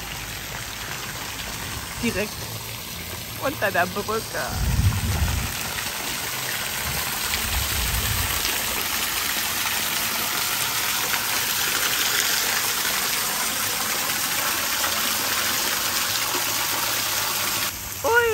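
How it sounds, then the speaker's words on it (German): Outdoor shower running beneath a bridge in Mostar beside a river, a steady hissing spray that continues throughout, with a person talking briefly near the start. "So, jetzt geht's erstmal duschen."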